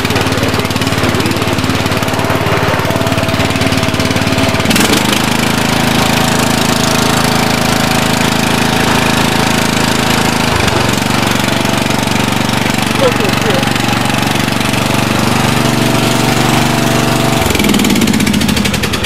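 A Poulan lawn mower engine runs loud and close for the whole stretch, a rough, knocking drone that shifts in pitch a few times, as if it surges and stumbles.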